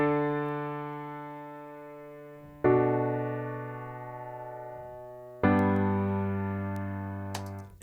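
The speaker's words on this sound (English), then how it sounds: "you can hear it's really open and just simple chords like a songwriter might put down" Three simple, open piano chords, each struck once and left to ring out and slowly decay, with even spacing and no voices.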